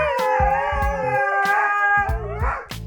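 A dog in a home kitchen at mealtime howls in long, wavering, drawn-out tones with short yips breaking in, loud and close throughout.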